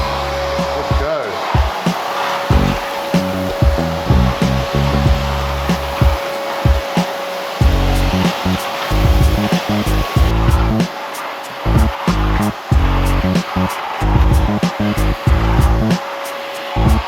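A STIHL SE 33 wet and dry vacuum cleaner runs loud and steady with a constant whine, its airflow surging and sputtering in choppy bursts as the nozzle works over a workshop floor.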